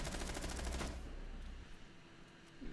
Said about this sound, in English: That was the team kill shot you heard right there.